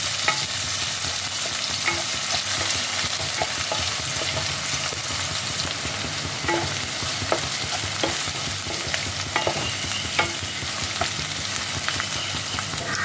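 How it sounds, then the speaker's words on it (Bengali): Chopped onions with a pinch of salt fry steadily in a pan, a continuous close sizzle broken by repeated scraping strokes of a stirring spoon, with no talking. "এবার পেঁয়াজটাকে ভালোভাবে ভাজতে হবে।"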